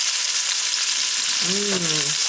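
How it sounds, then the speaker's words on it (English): Meat pieces brown in a hot pot, giving a continuous, even sizzle from start to finish, with a brief faint tonal squeal rising near the end. "all we wanna do is just brown all of the sides of these pieces"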